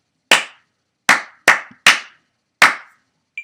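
Sharp close-up hand claps, five in a rhythmic pattern with a longer pause before the last, practiced as part of a woodwind melody rhythm lesson, ending with a small faint click.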